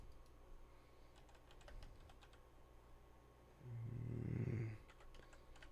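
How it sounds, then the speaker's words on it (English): Someone types on a computer keyboard, a faint scatter of light, quick clicks in a quiet room, interrupted by a brief low rumbling hum partway through. "typing's hard."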